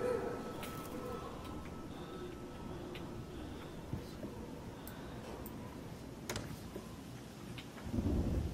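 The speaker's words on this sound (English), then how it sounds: "It's like a thunderstorm, I guess" Thunderstorm ambience in the horror video game Amnesia: A Machine For Pigs, a steady low rumble of thunder and rain that swells near the end, with a few sharp crackles over the wash.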